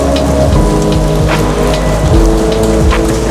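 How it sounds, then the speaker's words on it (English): Hail falling during a rainy outing, a dense, loud, continuous patter of pellets striking surfaces close by, with scattered sharper ticks and no voices. "It's actually hailing,"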